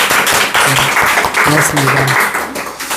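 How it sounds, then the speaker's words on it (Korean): A church congregation claps in welcome during a Korean Sunday worship service. The dense, even patter runs the whole time at moderate loudness while someone speaks briefly over it. "박수로 환영하겠습니다"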